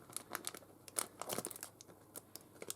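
Scissors snip open a fabric parcel of lace, with crisp crinkling and tearing of the wrapping in close, irregular bursts and short pauses between cuts.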